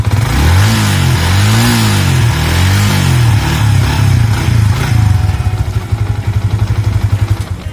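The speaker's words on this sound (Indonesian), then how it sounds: "Bahkan sampai saat ini bisa kita cek ya suara mesinnya ya. Mesinnya benar-benar masih halus." A Yamaha New Vixion Lightning motorcycle engine runs close by, smooth and steady, with its revs rising and falling in several swells before settling into an even, loud idle. Nobody speaks.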